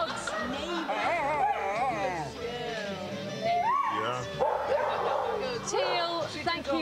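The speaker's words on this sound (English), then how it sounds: "That's the other dogs." Several dogs bark, yip and whimper in an excited, overlapping chorus close by, with voices talking over them.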